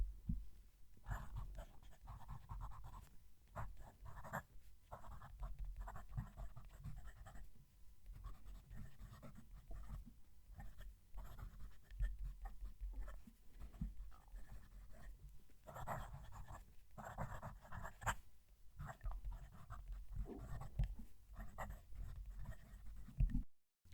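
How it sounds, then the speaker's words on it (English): A Duofold-style fountain pen with a very stiff nib scratches across paper close to the microphone, in steady faint strokes with short pauses throughout. "Move the mic to do some writing."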